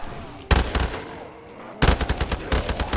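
Gunfire in the video game Call of Duty Zombies: a loud, rapid burst of shots, a lull, then a longer run of rhythmic repeated shots.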